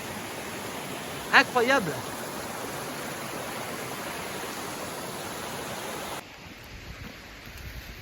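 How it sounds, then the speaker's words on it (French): Small successive cascades of a waterfall at Corveissiat in the Ain, France, rushing as a steady broadband roar throughout, with a brief spoken exclamation early on and the wash dropping slightly quieter near the end. "vous avez vu la chute d'eau, enfin la succession de petites cascades"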